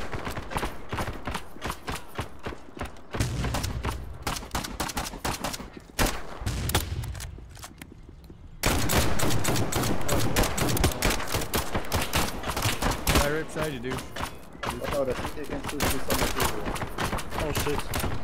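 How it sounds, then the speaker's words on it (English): Enemy gunfire in an Unreal Engine 4 shooter game, rapid bursts and volleys crackling through most of the stretch, dense and loud, with a quieter pause midway before heavy shooting resumes, mixed with game sounds. "They can shoot through walls."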